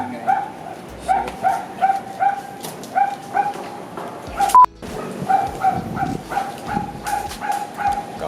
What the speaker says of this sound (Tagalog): tumatawag yung aso, ang ingay